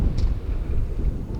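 Wind buffets a microphone at an outdoor high school softball game, a steady low rumbling roar with gusty swells across the short stretch, loud and close, with no voices.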